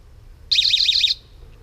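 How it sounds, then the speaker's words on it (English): A homemade camp trap alarm, triggered when its string is pulled, sounds off in a warbling electronic whoop about five quick cycles over half a second, loud and close, then cuts off abruptly. "So the minute this has been pulled, the alarm will go off"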